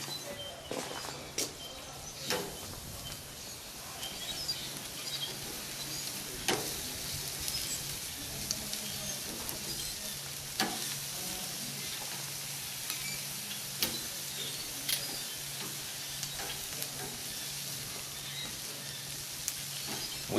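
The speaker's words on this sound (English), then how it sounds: "I want to sear this." Barbecue chicken wings and ribs sear on a hot grill, a steady low sizzle running throughout with scattered sharp pops and crackles, plus occasional faint knocks and movement close by.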